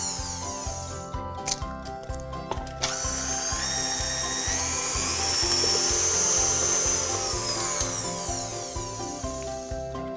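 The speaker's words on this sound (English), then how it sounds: "Mix for a further minute until you get a smooth, thick batter." An electric mixer beating cake batter of eggs, butter, flour, salt and baking powder, giving a loud, continuous mechanical whir with a rapid rattling pulse that rises in pitch partway through.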